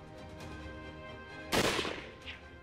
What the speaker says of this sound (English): The guns exploded with noise.